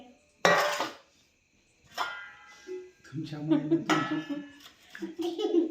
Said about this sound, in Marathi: आपली भांडी घ्या